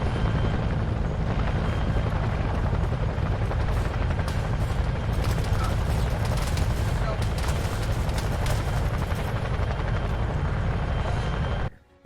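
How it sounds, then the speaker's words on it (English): A Chinook helicopter in a Vietnam-era combat video game roars with a loud, continuous rotor and engine drone, mixed with scattered gunfire, before cutting off abruptly at the end. "There's the Chinook"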